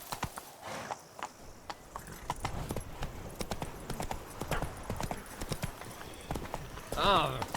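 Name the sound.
horse galloping hooves, from video game The Witcher 3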